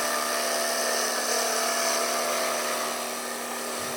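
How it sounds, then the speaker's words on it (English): A steady high-pitched whine of a Forstner bit on a drill press boring into wood, continuous and fairly close, with no talk. "it's best to use a Forstner bit on a drill press like I'm doing here"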